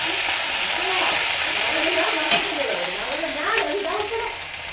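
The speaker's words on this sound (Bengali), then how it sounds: "1 চামচ রসুন বাটা দিলাম, এটাকে একটু লাল করে ভেজে নেব।" Garlic paste frying in a pan over a lowered gas flame, giving a steady close sizzle with stirring scrapes throughout, and a soft voice talks intermittently under it.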